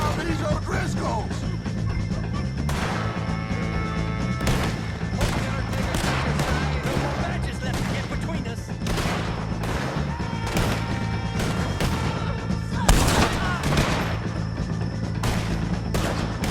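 Gunfire shootout with O'Driscoll gang members in the video game Red Dead Redemption 2, a dense, continuous barrage of loud shots and bangs running throughout amid a busy mix of game sound.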